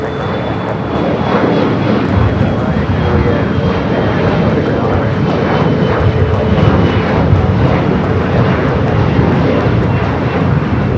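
A United Boeing 757 jet airliner at Los Angeles airport (LAX) gives a loud, continuous engine roar that holds steady throughout.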